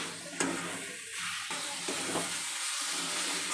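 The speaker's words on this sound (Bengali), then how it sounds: "এবার সব মশলার সঙ্গে আলুটাকে ভালো করে কষিয়ে নেব" Potatoes being stir-fried dry with spices in a pan for a paneer curry, a steady close sizzle and frying hiss with the scrape of a spatula stirring through, no voices.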